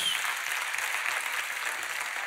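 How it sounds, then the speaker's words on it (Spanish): A congregation in a church service applauds, a continuous even roar of many hands clapping at moderate volume throughout, with no distinct voices. "Dele un aplauso a Dios"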